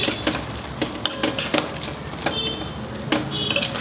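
A spoon stirs and knocks against a pan of bottle gourd halwa cooking in ghee with poppy and sesame seeds, giving sharp irregular clinks and scrapes over a soft sizzle.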